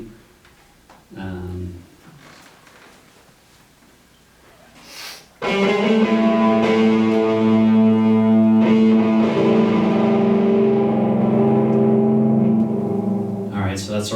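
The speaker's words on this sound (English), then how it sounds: "So here's the main guitar melody." A distorted electric guitar plays the main melody of a demo track, sustained and loud after a few quiet opening taps and knocks, ringing on steadily to the end.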